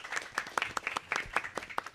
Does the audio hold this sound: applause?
yes